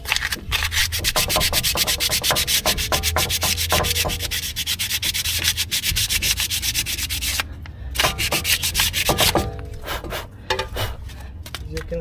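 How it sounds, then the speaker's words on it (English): Sandpaper rubbing away glue residue on bare metal near the brake area of a Mercedes E350 W212, a steady close scratchy scrubbing in rapid back-and-forth strokes that runs almost continuously, with brief pauses near the end. "after I'm done, I'm going to apply a sandpaper"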